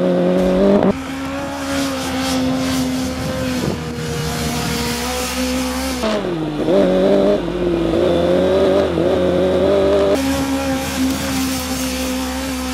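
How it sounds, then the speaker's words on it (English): A car at a launch event runs fast laps around a figure-eight circuit, its engine droning loud and close with rising and falling revs as it accelerates and turns, and no one speaking. "the driver has to complete 2 laps on the clockwise direction, followed by 2 anti-clockwise laps"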